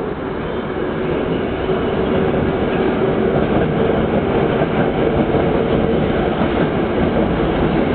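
A Tokyo-bound commuter train pulling into the platform at Ochanomizu Station, a loud, close, continuous rumble of wheels and motors with rhythmic rail clatter, steady throughout without talking.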